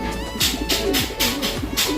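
Pigeons coo steadily in a breeder's loft, with repeated soft, throaty coos rolling one after another at close range and nothing else heard.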